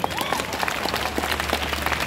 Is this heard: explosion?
no